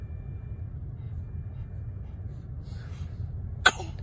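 A baby gives one short, sharp sneeze near the end, close and brief, over a quiet low rumble of background noise, with faint sounds just before it.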